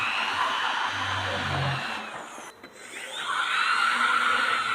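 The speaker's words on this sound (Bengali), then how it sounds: "সার্কিট লাগানোর 4টি ফুটা করে নিলাম।" An electric drill whines steadily, boring mounting holes for a circuit board in a homemade 800 VA pure sine wave IPS inverter build, loud and close, with a brief dip as the bit breaks through before spinning up again.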